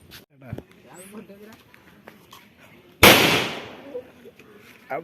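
A single sharp firecracker bang bursts out loudly and crackles away during Vishu celebrations. Voices and bird calls are heard before it.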